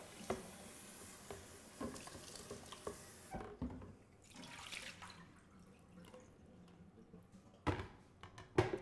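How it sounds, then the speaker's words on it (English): Tap water runs into a container for wine slushies while it is rinsed out, then cuts off, leaving scattered clinks, drips and knocks of handling at close range. "now I'm gonna rinse this out again"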